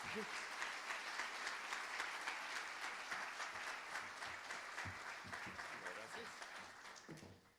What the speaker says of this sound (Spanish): un fuerte aplauso al embajador Luis Arriaga